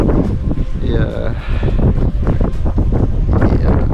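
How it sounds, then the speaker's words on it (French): Strong wind gusts roar against the microphone during snowy weather near fir trees at a convent on the Estonian border with Russia, a loud continuous buffeting that rises and falls. "Là il y a des grosses rafales de vent depuis tout à l'heure, on voit les sapins qui se plient un peu."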